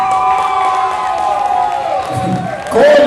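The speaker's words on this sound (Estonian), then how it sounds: "Aplaus!" Loud crowd cheering and applause from the audience at a rock talent show event, a dense continuous roar of voices and clapping with whoops swelling near the end.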